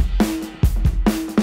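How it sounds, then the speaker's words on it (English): Dry, unreverberated drum kit for a shoegaze mix: punchy kick thumps and two snare cracks with short ringing tails, close and loud, without any room ambience or speech. "So without that, the drums sound like this."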